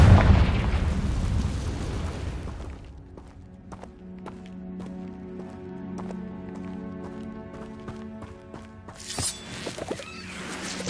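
A Confringo spell blast in Hogwarts Legacy bursts loudly at the start and rumbles away, followed by a quieter stretch of light ticking steps and small clinks, then another rushing burst near the end.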